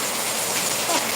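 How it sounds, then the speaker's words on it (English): Rain falls as a steady, dense hiss of drops, fairly close and even throughout the short stretch, with no speech. "and it's raining too"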